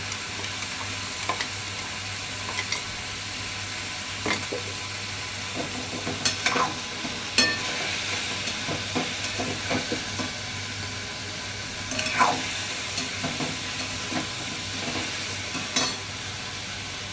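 Food frying with a spice paste in a pan at home, a steady soft sizzle broken by scattered scraping clicks of a stirring utensil.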